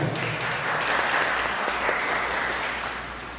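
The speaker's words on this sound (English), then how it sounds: "So let us give Senator Roberts a round of applause there again." Applause rings out for Senator Roberts at a UNC political meeting in Cumuto Manzanilla, Trinidad: a crowd's sustained clapping at even strength, fading slightly toward the end, with no speech on top.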